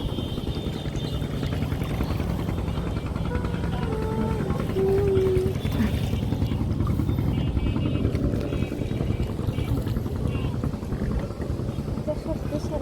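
A motor boat on the Kapasia river drones steadily and loudly throughout, its engine hum mixed with wind and water noise, with no one speaking.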